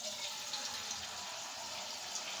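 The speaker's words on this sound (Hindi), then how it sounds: "पानी इसके अंदर मैं डालूँगी" Water runs steadily into a pot meant for boiling potatoes in a home kitchen, a continuous close splashing gush with no talk.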